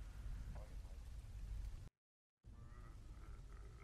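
Rain in the Herd is Coming video game, a steady dense hiss of downpour with a broad low rumble, cutting out abruptly to silence for about half a second before resuming at the same level.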